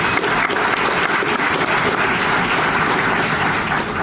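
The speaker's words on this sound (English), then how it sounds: "round of applause for Danielle" Dense, steady applause fills an award dinner hall for an honoree, a continuous wash of many hands clapping at even loudness throughout.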